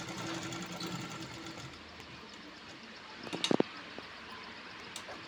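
A computer sewing machine stitches a cut work blouse design, a faint steady mechanical hum running close throughout, broken by a few brief clicks partway through.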